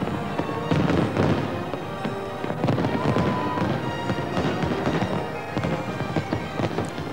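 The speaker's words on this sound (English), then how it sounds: "Thousands watched this spectacular fireworks display over Australia's most famous landmark." Fireworks over Sydney Harbour Bridge at a New Year celebration, heard as repeated loud bangs and crackling bursts that keep overlapping for the whole stretch.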